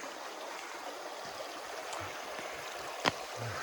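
A creek runs between steep embankments with a fairly strong flow, giving a quiet, steady, even rush of water throughout, broken only by one brief click near the end.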